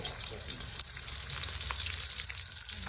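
Pork cracklings frying in oil in a pan while making stir-fried preserved radish with egg: a constant crackling hiss with small bubbling pops, moderately loud and close.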